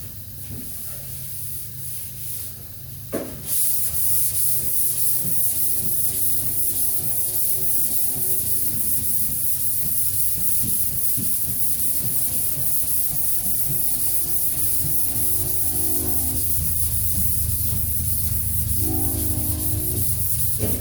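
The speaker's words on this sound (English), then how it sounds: "I'm using 180 grit. So it is taking a little bit to cut" Primer on a 1980 Buick Regal is hand-sanded with 180 grit sandpaper, giving a continuous close, loud, hissing rasp with rhythmic scraping strokes throughout.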